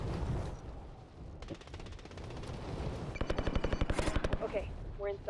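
Rapid automatic gunfire in the video game Call of Duty Warzone, bursts of fast repeated shots close and loud over steady background game noise, with a second burst near the end.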